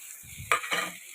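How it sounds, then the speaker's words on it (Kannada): Boiled, mashed potato being stirred in a pan with a utensil: two short, close scraping strokes with a faint sizzle, no voices. "ತಿರುಗ್ತಾ ಇದ್ದೀನಿ"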